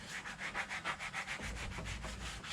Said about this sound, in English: So I'm going at it with like a sanding sponge, with it being wet.